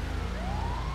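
An ambulance siren in the GTA video game, a steady rising electronic wail over a low rumbling engine, loud and close for a brief moment.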